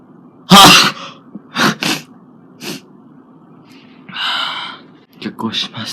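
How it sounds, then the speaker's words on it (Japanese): A person sneezes with eyes open: one loud, sharp sneeze up close, followed by gasping breaths, sniffs and short breathy vocal noises, with no words spoken. "目をつぶずにくしゃみをする"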